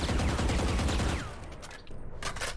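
Rapid automatic gunfire in Valorant with the Combat Stim buff active, a dense close burst of shots that breaks off, followed by a few quicker separate shots.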